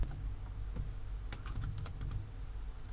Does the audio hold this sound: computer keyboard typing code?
yes